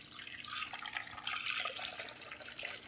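Liquid, likely kerosene or number one diesel, is poured steadily into a 1948 International Super A tractor, giving a continuous splashing, trickling wash with no talking.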